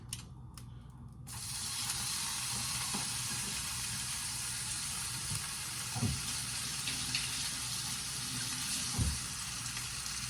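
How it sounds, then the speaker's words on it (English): Bacon hitting a hot pan and settling into a steady, dense sizzle that carries on throughout, with a couple of brief clicks or knocks, close and moderately loud, with no talking. "now I'm gonna put my bacon in there"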